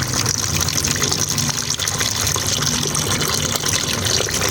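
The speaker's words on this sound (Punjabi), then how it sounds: "ਸਾਡਾ ਪਾਣੀ ਇੱਥੋਂ ਤਾਜ਼ਾ ਪੈਂਦਾ ਹੈ" Fresh water gushes in a steady, loud, unbroken stream for pigeons, with no voices over it.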